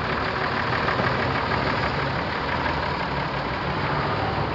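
An old, elderly vehicle convoy of travellers moving on hilly roads makes a dense, continuous engine rumble and drone that holds steady at the same loudness throughout, with no speech.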